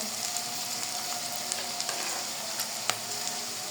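Onions fry in plenty of oil in a pan with a steady, moderate sizzle and occasional light clicks and pops, heard alone without voices.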